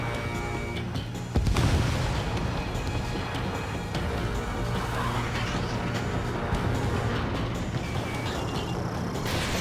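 A missile fired from a fighter jet in the Ace Combat 7 air-combat game, heard as a sudden loud whooshing blast followed by a sustained roaring rumble of engines and distant booms that fill the scene.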